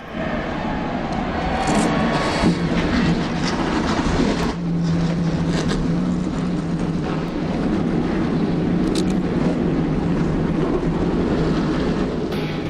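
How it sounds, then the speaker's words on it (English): NASCAR stock car engines firing up together at Daytona for a Gatorade Duel race in 2011, a loud broad roar of many engines with deep rumble that holds steady for the whole stretch. "Gentlemen, start your engines!"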